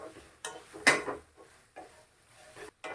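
Chilli parotta being stirred with a spatula in a metal pan after ginger-garlic paste goes in, giving a few scattered scrapes and clinks at an irregular pace with a faint sizzle underneath.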